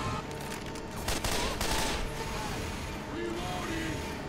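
AK rifle fire in the Left 4 Dead video game, rapid continuous automatic bursts filling the whole stretch, loud and close, with a dense chaotic game mix behind it.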